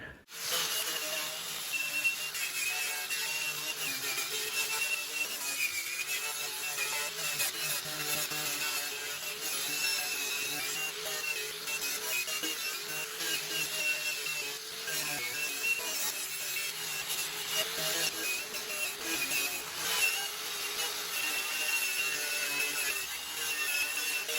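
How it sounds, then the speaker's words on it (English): Rust being scraped or ground off an old Craftsman 9 HP snowblower outdoors, a loud continuous harsh hissing abrasion that runs steadily throughout with little variation. "try to scrape off a lot of this rust as quickly as I can"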